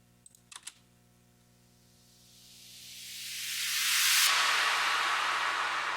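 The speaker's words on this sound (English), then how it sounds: "This is that same sweep that I put a lot of reverb on" A reverb-drenched noise sweep in a house track, rising into the breakdown: a few faint clicks at the start, then a hissing wash that swells steadily louder and brighter, cuts off its low end sharply near the peak, and lingers in a long tail.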